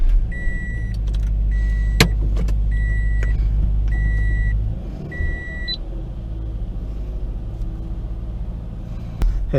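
Inside a Subaru BRZ, the engine rumbles at a low, steady idle while a warning chime beeps in about five evenly spaced pairs. The rumble then softens as the car starts to move, with a couple of sharp clicks.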